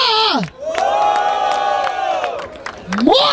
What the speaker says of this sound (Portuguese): Barulho para as rimas do CH!